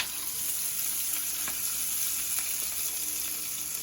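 Onions fry in a pan as the base for an aubergine sauce, a quiet, even sizzling hiss with a few faint stirring clicks, heard close without talk.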